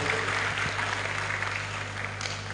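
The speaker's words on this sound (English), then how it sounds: "Please, can we clap for him?" Applause from an audience at a state health council meeting, a steady wash of clapping at moderate level under a constant low hum, with no pauses across the whole stretch.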